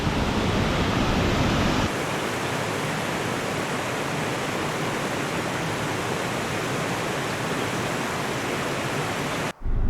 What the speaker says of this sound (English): But yeah, the waterfall is pretty cool.